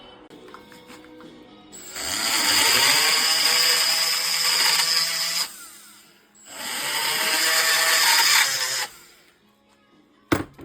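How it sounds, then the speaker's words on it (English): Two long bursts of close power drilling into a seized, broken car AC compressor bolt, each grinding steadily for a few seconds with a pause between, then a sharp clank at the end. "we'll tap up to, or drill up to 5/16, see if we can get it moving"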